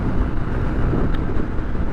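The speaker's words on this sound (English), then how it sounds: "But I have the throttle all the way open." Honda XR150L dual sport motorcycle running at full throttle near top speed, a steady loud engine drone mixed with heavy wind rush across the microphone, continuous and unbroken throughout.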